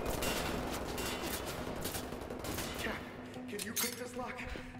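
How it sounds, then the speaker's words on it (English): Rapid bursts of gunfire in Wolfenstein: The New Order crackle in quick succession, loud and dense throughout, with a few sharper shots near the end. "gunfire."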